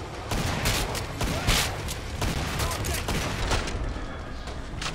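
Shotgun blasts in Killing Floor 2 ring out in an irregular string of sharp shots over steady gameplay noise, with voices talking underneath.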